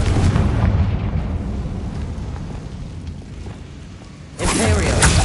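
A fiery Confringo blast spell in Hogwarts Legacy, a rumbling burst early on that fades, then a second loud whooshing explosion near the end, with spoken voices over the effects.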